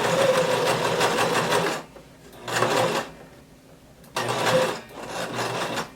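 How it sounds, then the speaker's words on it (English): A sewing machine stitches a skirt casing, running in three separate bursts of steady whirring with brief quiet gaps between them, as the seam is back stitched. "And then I'm going to just start sewing, back stitch"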